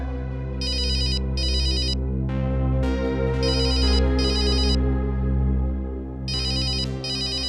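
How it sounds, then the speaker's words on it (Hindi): A telephone ringtone trills in repeated paired bursts over a steady electronic melody, loud and close, three rounds of double rings across the stretch with no talking. "तेरा फोन है।"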